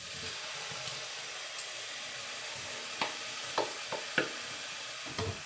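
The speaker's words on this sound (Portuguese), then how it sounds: "Vou deixar isso fritar um pouco." Onion, leek, salt and tomato frying in a pan give a faint steady sizzle and hiss, broken by a few soft stirring scrapes and knocks toward the end.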